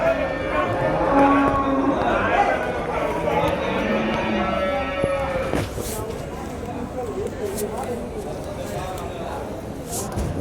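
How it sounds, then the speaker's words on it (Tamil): Cattle at a bustling livestock market in Vaniyambadi, with animal calls and movement mixed into steady crowd chatter and nearby talk throughout. "இங்கே ஒரு பெரிய மாடு ரன்னிங் மாடு"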